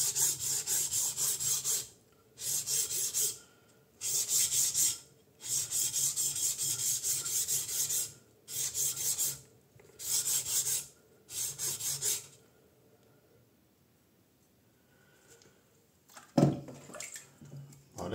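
An Usuba kitchen knife honed on a whetstone: long rhythmic rasping strokes in steady bursts, close and clear, then a quiet pause and a brief clatter near the end.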